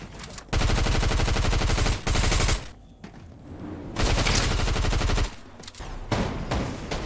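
Rapid bursts of automatic gunfire in a Fortnite solo cash cup tournament match, several loud sustained volleys separated by short pauses, with no talking.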